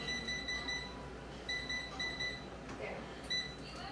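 Repeated short electronic beeps from an air fryer timer alarm sound in bursts over a steady background hum, fairly close, with a voice briefly present.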